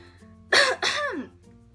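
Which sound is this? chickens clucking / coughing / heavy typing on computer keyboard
coughing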